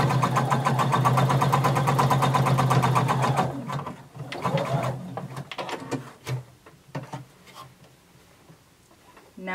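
A sewing machine stitching a seam along a garment's crotch curve, a fast, even run of close needle strokes for a few seconds, then slowing into scattered separate stitches and clicks before stopping.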